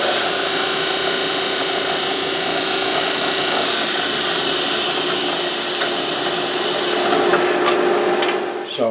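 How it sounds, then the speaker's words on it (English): An air-foot-switched disc sander grinds a block of Corian for a guitar bridge saddle, a loud continuous hissing whine with a steady tone that carries on without talk, then eases off at the end. "I hold that up against the disc sander."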